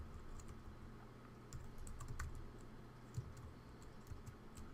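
Rapid keystrokes on a computer keyboard while typing Android code, a steady patter of soft clicks with occasional louder taps over a low hum, fairly close and faint throughout.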